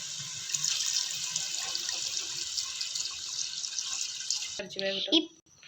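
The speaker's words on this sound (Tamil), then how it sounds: "1 லிட்டர் தண்ணி ஊற்றிப்போம்." One litre of water pours steadily into a pot with one kilo of rice for mutton biryani, a continuous splashing stream that stops abruptly near the end, followed by a brief clatter.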